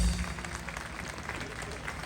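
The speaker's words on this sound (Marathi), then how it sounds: "आयोजकांसाठी एकदा हात वरती करून जोरात टाळ्या वाजवा" Crowd at a Marathi village dance and Paithani game event clapping for the organisers, a brisk continuous patter of many hands, fairly quiet and without voices.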